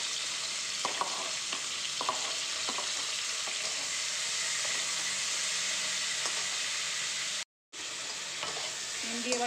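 Whole cumin, onion and green chilli fry in a pan with a continuous crackling sizzle. A utensil stirring the pan adds occasional scraping clicks, and the frying stays close and steady throughout.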